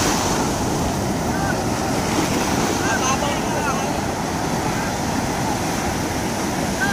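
Constant rush of sea waves and wind around a small wooden boat (bangka), a dense, steady wash of water noise with faint voices in the background.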